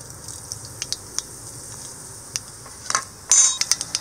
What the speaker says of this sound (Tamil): கடுகு வந்து பொரிஞ்சு வந்துருச்சு.